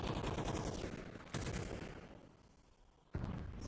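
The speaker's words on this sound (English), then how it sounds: "Sajat's AK cooking up just behind Mighty Max" Rapid automatic AK rifle fire in a Counter-Strike match, dense bursts crackling steadily with two sharp fresh volleys starting partway through, loud and close with no talk over it.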